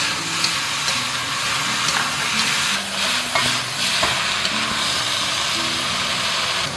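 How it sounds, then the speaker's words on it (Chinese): Beef being stir-fried with sauce, chilies and celery in a hot wok, a continuous loud sizzle with scraping spatula strokes and stirring clatter throughout, no voices. "接着我们再把这个牛肉回锅，然后边倒酱汁边翻拌"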